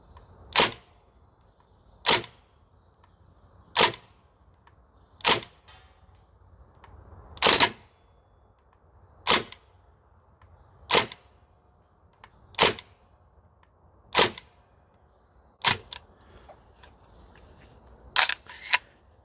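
A Northeast Airsoft mini Uzi gas blowback airsoft gun fires eleven sharp, loud single shots spaced roughly every one to two seconds, with no talking in between.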